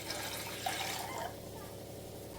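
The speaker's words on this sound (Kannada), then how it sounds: "ಹಂಗೆ ತಪ್ಪಲೆ ಇಟ್ಕೊಂಡು ಅದಕ್ಕೆ ನೀರು ಹಾಕ್ಕೊತಾ ಇದ್ದೀನಿ" Water poured into a cooking pot in a home kitchen while preparing Karnataka-style kaima gravy, a steady close splashing and trickling that fades slightly after the first second.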